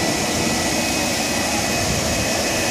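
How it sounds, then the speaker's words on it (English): A backyard pool heater runs nearby, its fan blowing hot air in a loud, steady whooshing drone with no change in level. "It's blowing hot air, so the heater exchange is working."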